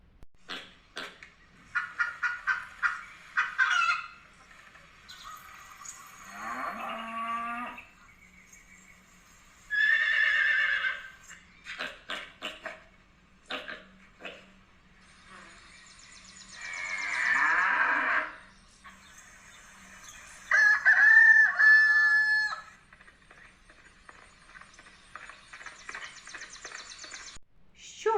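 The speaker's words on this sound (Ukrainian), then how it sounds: "Так, це звуки тварин." A series of separate farm animal calls with quiet pauses between them: cows mooing, a horse whinnying, and fowl clucking, each clear and close.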